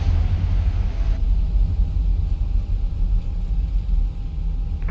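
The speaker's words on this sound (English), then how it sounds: "70 knots, manual braking." Airbus A320 cockpit in a flight simulator during landing rollout with manual braking: a steady low engine and rolling rumble with a faint high whine, decelerating and easing slightly toward the end.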